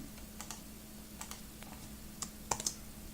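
Quiet, irregular keystrokes tap on a computer keyboard, a few scattered clicks followed by a quicker cluster near the end, over a faint hum.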